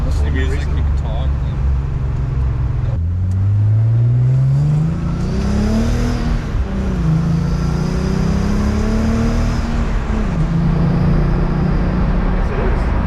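Inside a Nissan 300ZX twin turbo on the move, the engine hums at a moderate cabin level, its pitch rising and falling through gear changes and acceleration in a steady, continuous drone.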